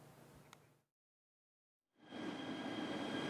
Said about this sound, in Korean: 부산 부전역에서 출발한 동해선 열차가 강릉역에 도착합니다